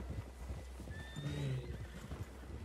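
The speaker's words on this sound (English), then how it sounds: "The horses are angry." Horses in the Red Dead Redemption II video game whinny and snort near the listener, a long neigh rising in the middle, over a steady low rumble and soft hoof clip-clop.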